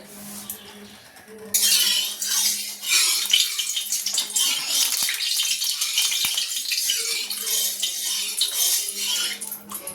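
Whole chicken pieces go into hot oil in a wok and a loud, hissing sizzle bursts in abruptly, then continues steadily with occasional clinks nearby.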